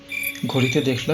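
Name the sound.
crickets chirping at night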